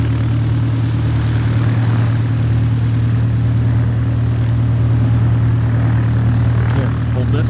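A small carbon fiber airplane takes off at an airport, its engine giving a loud, steady low drone with a strong propeller hum throughout.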